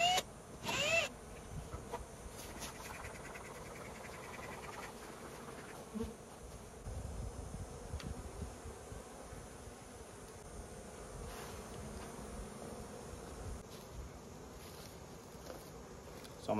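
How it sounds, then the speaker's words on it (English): A loaded swarm trap packed with honey bees gives off a dense, continuous buzzing hum, close and steady, with occasional louder knocks and handling noises as the lid comes off. "this swarm trap is loaded. Completely loaded with bees."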